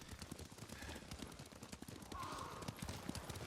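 Horse hooves clop steadily in the video game Ghost of Tsushima, a faint, quick rhythmic patter under a low background bed, with a brief distant tone partway through.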